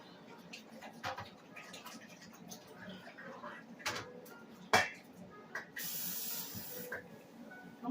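Running water from a kitchen tap washes off a cooking item while reheating leftover fried rice, a steady spray and hiss with soft patter that swells louder near the end over some clatter.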